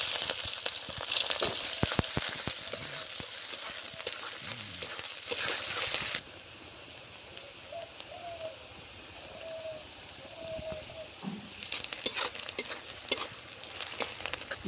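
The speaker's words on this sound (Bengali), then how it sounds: "তেল তো গরম হয়ে গেছে, এই শুকনো লঙ্কা দুটো দিয়ে দিচ্ছি। আর এখন দিয়ে দিচ্ছি কুচিয়ে রাখা পেঁয়াজ।" Chopped onions and two dried chillies fry in hot mustard oil, a loud close sizzle with stirring scrapes that drops sharply to a quieter crackle midway, while birds coo faintly in the background.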